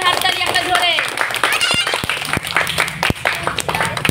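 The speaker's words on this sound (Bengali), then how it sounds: "হ্যাঁ সবাই হাততালি একটা জোরে।" Young students at a Teachers' Day prize-giving break into scattered, uneven clapping of sharp separate claps, with a voice talking over the start and continuing beneath.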